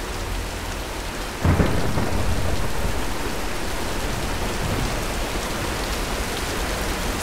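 Thunderstorm in the video game Tomb Raider (2013): heavy rain pours steadily as a loud rumble of thunder breaks in early, the downpour hissing on without pause.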